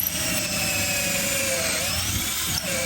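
A power drill whines steadily as it bores through plastic, a loud, continuous high-pitched motor drone with a slight dip in pitch partway through and a brief catch near the end.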